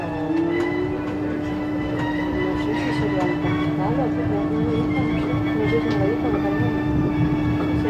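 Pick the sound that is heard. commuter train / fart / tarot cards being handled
commuter train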